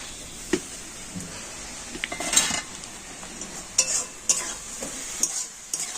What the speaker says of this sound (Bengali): এবার আমি এবার ঢাকা খুলে নেড়ে দেব